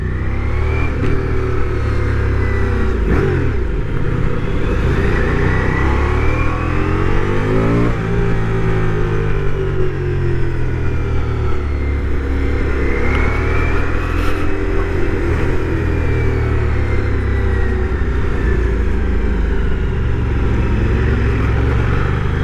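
A motorcycle engine rumbles at partial throttle, a steady, deep, close growl that rises and falls slightly with throttle changes throughout.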